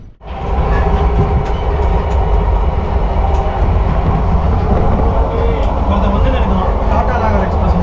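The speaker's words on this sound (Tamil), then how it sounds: "டாடா நகர் எக்ஸ்பிரஸ்" The Tata Nagar Express rolls past on the rails at close range, a loud continuous rumble with clattering wheels that holds steady for several seconds after a sudden onset.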